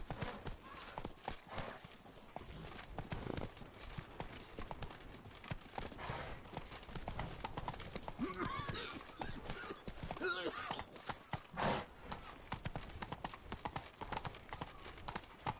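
Horse hooves clip-clop in a steady rhythm while riding in The Witcher 3, with occasional whinnies and game effects over a low background.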